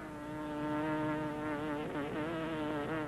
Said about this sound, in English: Oh, a bee in here.